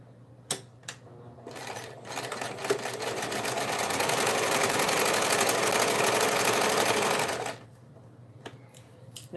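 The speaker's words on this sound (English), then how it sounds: "I'm going to go back over here and stitch this up again" A sewing machine stitches a tote bag in one steady, close whirring run of about six seconds, with faint clicks before and after and no one talking.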